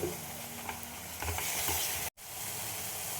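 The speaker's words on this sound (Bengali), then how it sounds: "এবার দিয়ে দেবো ওই মিষ্টি দেওয়া জল অল্প একটু দেবো।" Sweetened water poured into spice masala frying in a pan with potatoes and soybean chunks nearby, giving a steady close sizzle with stirring scrapes, then a brief total dropout before the sizzle resumes.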